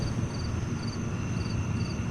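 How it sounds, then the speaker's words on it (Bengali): Crickets chirp beside a village road through dense jungle at dusk, with short repeated bursts of high trilling over a steady low background hum. "ঝিঝির ডাক ছাড়া আর কোনো শব্দ শোনা যাচ্ছে না।"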